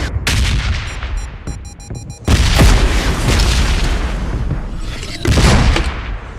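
Heavy tank cannon blasts in a combat video game, with a loud boom near the start and two more powerful booms around the middle and end over a dense, continuous battle rumble.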